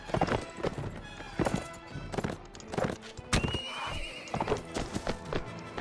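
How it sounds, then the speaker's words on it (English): A horse in the Mount and Blade Warband video game whinnies loudly after being shot by an arrow, amid steady clip-clop hoofbeats and battle noise. "Did someone just shoot my horse with an arrow?"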